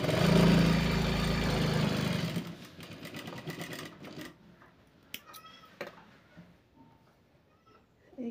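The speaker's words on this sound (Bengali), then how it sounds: "এখানেও আমি ডবল সেলাই দিয়ে দেব।" A sewing machine stitches a blouse with a loud, close, steady whir for about two seconds. Softer clicks and handling noises follow it.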